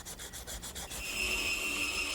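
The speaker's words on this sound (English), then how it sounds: "A little hand sanding will clean up those areas." Rhythmic back-and-forth rasping strokes of sandpaper on wood, then a steadier continuous scratching, close up with no talking.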